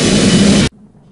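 Rocket engine ignition in the game Kerbal Space Program: a loud burst of broad roaring noise that cuts off abruptly after well under a second, leaving near silence.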